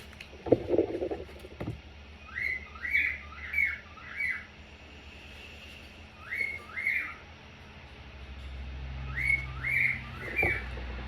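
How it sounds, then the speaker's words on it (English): Small birds chirp and squawk in repeated short bursts of bright, high notes, clustered in groups of three or four with pauses between, fairly close and alone with no voices, a brief low knock near the start. "And my birds are just like, confirmation tweets."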